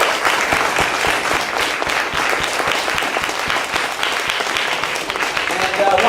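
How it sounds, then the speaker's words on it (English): An audience at an evening show in a venue called the Underground claps loudly and continuously, a thick, steady applause close by with no clear voices over it. "Why don't we give a round of applause once again for the three guys who were in Spamalot"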